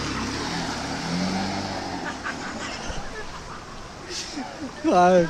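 Vehicles, including a Sumo, churn their way out of a deep muddy pit on an offbeat road near a fort, engines revving and straining at close range beneath excited shouting voices, ending in a loud burst of revving.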